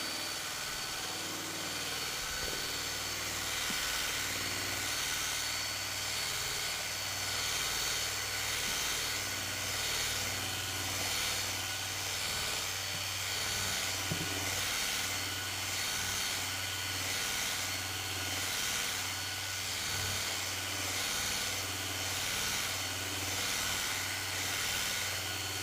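A polishing mop machine buffs the windscreen surround of a Nissan Figaro, giving a steady, continuous motor drone with a low hum throughout, fairly close and without speech.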